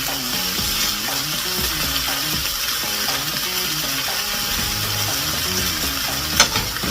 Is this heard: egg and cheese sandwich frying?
yes